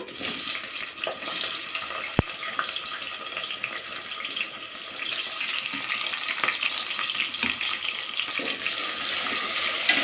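Chopped onions hitting hot oil that already holds a bay leaf, for a dill-leaf rice bath, producing a loud, continuous hissing sizzle with one sharp clack of a utensil early on.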